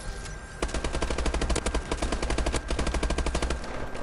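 Rapid automatic gunfire in an online shooter match, dense bursts of shots rattling continuously for several seconds at close range before tapering off.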